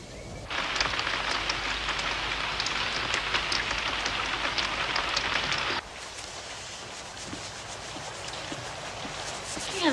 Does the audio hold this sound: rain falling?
yes